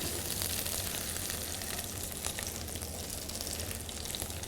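Prawns cooking in butter in a pan give a steady, dense sizzle that crackles evenly and continuously up close, with no voices.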